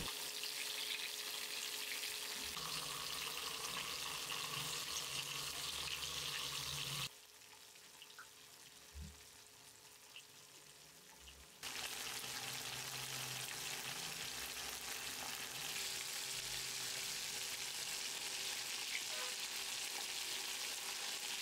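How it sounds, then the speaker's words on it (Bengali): Chicken pieces deep-fry in hot oil for Mongolian-style chicken, a steady crackling sizzle with occasional stirring, briefly dropping quieter midway before the full sizzle returns. "2 পাশে ভালো মতো নেড়ে ভেজে নিচ্ছি যাতে মাংস একদম ভাজা হয়ে ভেতর থেকে সেদ্ধ হয়ে আসে"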